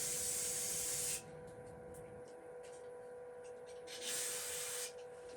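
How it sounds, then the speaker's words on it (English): Brake cleaner sprayed onto hands at a phone repair bench, two close hissing bursts: one at the start, then a second after a short pause with quieter rubbing between. "I'm washing my hands with brake cleaner"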